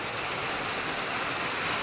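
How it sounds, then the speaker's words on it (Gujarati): Steady rain pours down during a monsoon downpour, a dense, even hiss with no breaks and no voices. "વરસાદે કરી છે પૂર્ણ તૈયારી"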